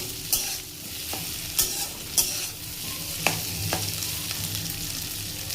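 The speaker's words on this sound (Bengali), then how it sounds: "ডিমের তেলের মধ্যে যে আমি একটু আলুগুলো ভেজে নিচ্ছি।" Potatoes fry in oil left over from frying eggs, a continuous close sizzle punctuated by regular sharp scrapes and knocks of a spatula against the pan.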